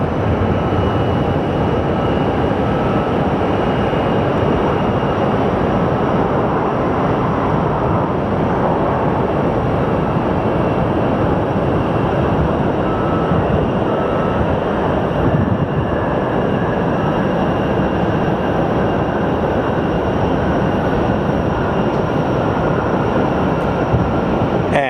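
A Boeing 777 airliner arriving from London at Phoenix Sky Harbor airport, a loud, steady broadband roar of jet engines sustained throughout, close and unbroken, with no voices.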